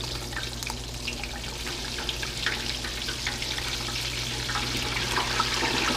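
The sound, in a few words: blooming onion deep frying in oil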